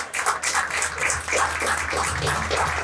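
A church congregation gathered for an anniversary service applauds, a close, rapid, continuous patter of many hands with a low steady hum beneath it.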